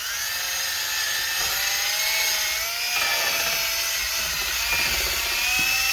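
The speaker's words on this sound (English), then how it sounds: "So with our wire brush, we're just going to go right here." A wire brush scours rust from the rear brake parts of a 2014 Cadillac CTS, producing a continuous, close, high-pitched whirring scrape that wavers slightly in pitch with no talking.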